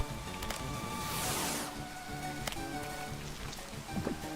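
Steady rain hisses down in a Minecraft Cobblemon world at night, a constant moderate wash of patter with a few faint game effects scattered through and no talking.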